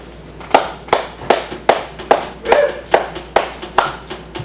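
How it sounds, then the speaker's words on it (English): Sharp, evenly spaced claps at an open mic night, about a dozen crisp slaps in a steady rhythm, close and alone with no talking. "I want to know what the sound of one hand clapping is? That."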